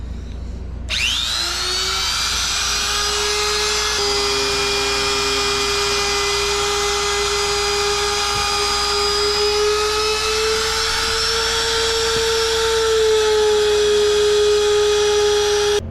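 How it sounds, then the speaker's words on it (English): A trim router cuts around the edges of a bass boat seat piece. It spins up sharply into a steady, loud high-pitched whine and keeps running continuously with slight pitch shifts under load. "what we're gonna do now is we're gonna take a trim router and go around our"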